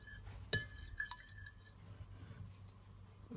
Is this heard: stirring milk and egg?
yes